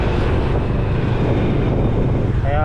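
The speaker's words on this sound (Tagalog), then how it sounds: "Maaraw na, mahangin pa." Heavy wind buffeting the microphone, a loud continuous low roar with no letup throughout.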